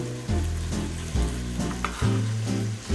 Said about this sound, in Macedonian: Брокулата оди во тенџерата.